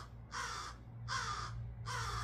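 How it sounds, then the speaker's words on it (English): Three loud, harsh crow caws come at a steady spaced rhythm in a garden near a lawn mower, over a low background hum. "Okay, Mr. Crow, we hear you."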